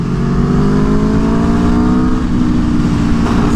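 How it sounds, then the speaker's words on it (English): A 2022 Aprilia Tuono V4 1100 Factory motorcycle runs on a race track, its V4 engine a loud, close, continuous drone that holds a steady pitch throughout. "I hear this bike and the induction sound is kind of quiet"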